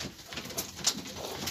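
Several pigeons coo softly in a loft or coop, a low murmuring chorus that is steady and nearby with a brief sharp chirp partway through, and no one talking.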